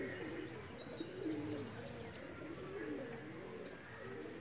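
Teddy Cross pigeons kept at home coo in a soft, repeated low murmur, joined by bright chirps and tweets from other birds, steady and close throughout.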